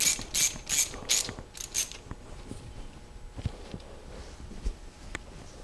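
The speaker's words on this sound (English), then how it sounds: "Now take the 4 screws for the fuel rail and tighten them down." A ratchet tightens the four fuel rail screws on a 5.0L OHV Ford V8, giving a run of quick, close clicking bursts in the first two seconds, followed by softer tool and handling noises.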